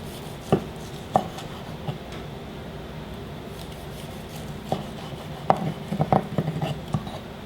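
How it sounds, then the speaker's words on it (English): A knife cutting into a cooked medium-rare steak, a few soft, scattered scrapes and taps of the blade against the plate or board, faint and close over a quiet background. "Let's cut into our juicy, delicious steak and see where we're at."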